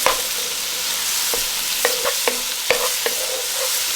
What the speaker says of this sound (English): let's introduce our tomatoes. I'm gonna saute these. Give this a stir.